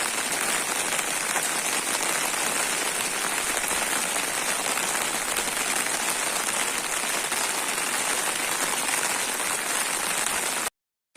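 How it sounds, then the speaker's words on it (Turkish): Heavy, steady rain pours down in a forest during a mushroom hunt, a dense continuous hiss of drops on leaves and ground at close range, with no talking, ending abruptly in silence. "Hava bayağı yağmurlu."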